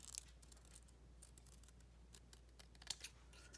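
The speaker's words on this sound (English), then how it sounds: "I use my big scissors so that I can do hopefully the straightest possible line" Large scissors trim a sheet of card in a few quiet, crisp snips spread across a faint background, heard alone without speech.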